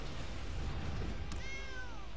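One short cat meow near the end, moderately faint over a steady indoor background hum, heard at home during a Magic the Gathering card game.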